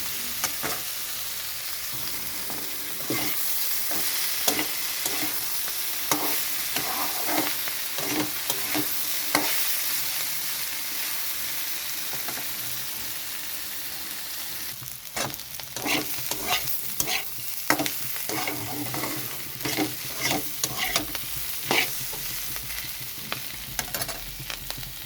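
Flat beans and potatoes fry in a pan while being stirred: a steady sizzle runs throughout, broken by repeated scraping clinks of a spatula at an irregular rhythm, close and without speech.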